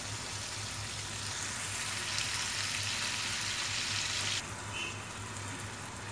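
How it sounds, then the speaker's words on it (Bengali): Tomato and spices frying in a pan for a poa fish curry, a steady close sizzle holding for several seconds before easing slightly near the end. "আমি টমেটোটাকে একটু গলিয়ে নিব, যার জন্য আমি এটা আরও 2-3 মিনিট এভাবে ভাজি করব।"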